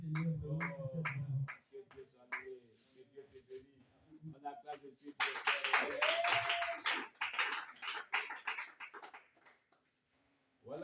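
A church congregation bursts into applause, a dense burst of clapping in the middle after a voice, with talking before and after.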